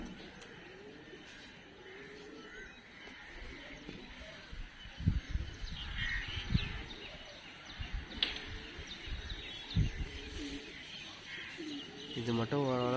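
Karna pigeons cooing and fluttering in flight outdoors, soft repeated coos and chirps scattered through, with someone talking over the birds throughout.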